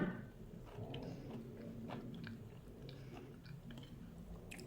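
Close, quiet crunching and chewing of a butter-fried shaggy ink cap mushroom stem, with soft irregular bites and moist mastication and no talking.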